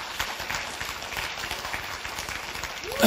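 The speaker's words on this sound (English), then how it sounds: "Come on, give the Lord a hand." Congregation applauding in a church service, a dense wash of clapping from many hands that stays steady and moderately quiet throughout, with no voices over it.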